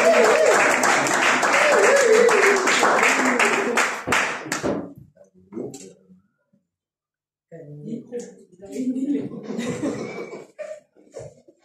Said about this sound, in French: Quand elle va passer, on va applaudir